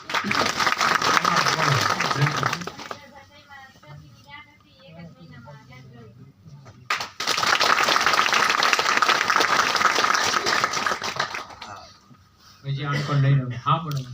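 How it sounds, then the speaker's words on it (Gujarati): An audience at a Gujarati health and education talk bursts into two rounds of loud applause, one opening the moment and one in the middle, with someone speaking quietly between them and again as the clapping fades. "રાઈટ તાળીઓ"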